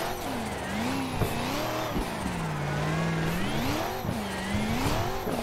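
A BMW E92 race car drifts and slides at a track event, its engine revving and wavering loudly and continuously with sustained tire squeal throughout, close to the microphone.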